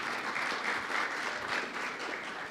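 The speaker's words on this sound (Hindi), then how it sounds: "जोरदार तालियां मिसेस अग्रवाल के लिए।" Audience applause for Mrs. Agarwal at an event honoring businessman Vinod Agarwal: steady, dense clapping from a crowd, sustained and fairly loud across the whole stretch with no voices over it.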